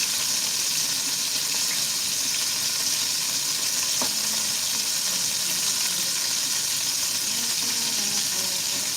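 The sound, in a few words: vegetable oil sizzling in cast iron skillet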